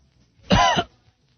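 A single short, close cough, sharp and throaty, in an otherwise quiet radio studio.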